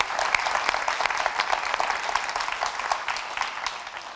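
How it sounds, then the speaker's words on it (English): An audience at a foundation summit claps for the speakers in sustained, dense applause that holds at an even level throughout, with many hands close together and no voices rising above it. "So I want to give one more round of applause to the speakers."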